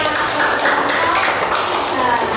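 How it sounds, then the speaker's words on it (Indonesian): Primary school pupils in a sixth-grade classroom clapping together during a maths lesson on angles, a dense, loud, continuous patter of many hands close by, with voices mixed in. "Tepuk tangan"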